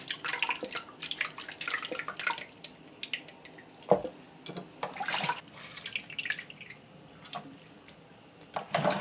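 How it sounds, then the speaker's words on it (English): Water splashing and dripping while shelled prawns are washed with lemon juice in a kitchen, irregular close trickles and splashes with a few sharper knocks, fairly quiet, with no talking. "So Molly is now washing this with some lemon juice"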